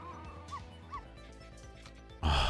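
Game audio from Ghost Trick, a Capcom video game, in which a small cute dog yips and whimpers a few times over a steady background music bed, ending in a louder burst of sound.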